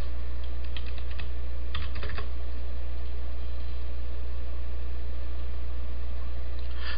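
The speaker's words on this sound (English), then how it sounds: "Type your new width into the box." Computer keyboard typing in short clustered bursts of quick keystrokes early on, then stopping, over a steady background hum.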